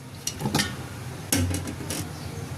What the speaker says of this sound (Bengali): এরপরে একটি পাতিলে আমি বেগুন আর আলুগুলো ঢেলে নেব।